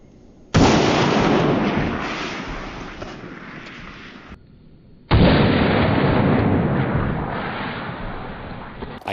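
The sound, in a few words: gunshots fired at fire extinguishers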